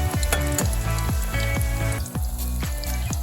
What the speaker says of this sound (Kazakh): Қызартып қуыру үшін бізде 5-7 минут уақыт аралығында болады